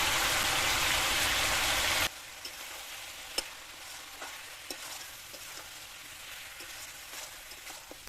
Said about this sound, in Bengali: মাংসটা আমি প্রায় 3 মিনিট কষিয়ে নিয়েছি